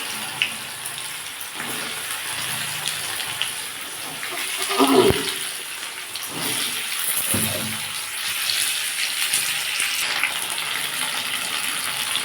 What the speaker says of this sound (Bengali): তেলটা গরম হয়ে গেছে আমি সিমটা দিয়ে দিচ্ছি